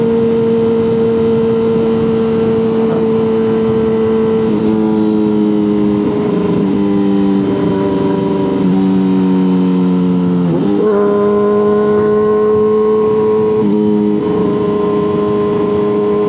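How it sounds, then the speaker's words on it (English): A steady engine drone fills the clip, with pitch shifts as the vehicle speeds up and slows in traffic; loud, continuous, no talking. "So many cars, man."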